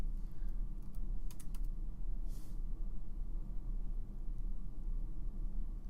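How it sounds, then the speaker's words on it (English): Keys clack on a computer keyboard while someone types a search into Google, a few quick bursts of clicks over a steady low hum. "So I'm going to type in a topic."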